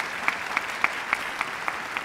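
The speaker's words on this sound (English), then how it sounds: "They deserve the applause." A crowd at a city's State of the City address applauds, a steady wash of clapping with faint regular accents, moderately quiet and continuous for a couple of seconds.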